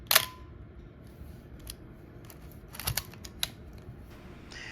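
A vintage 1977 Yashica FR I film camera clicks through its shutter and advance mechanism, a sharp opening snap followed by a scattered series of quieter mechanical clicks and ticks in a quiet room.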